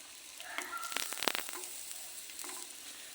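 Cinnamon pieces and garlic cloves fry in oil for a veg kurma base, a soft, quiet sizzle with a brief burst of crackling and a couple of faint stirring sounds in the middle.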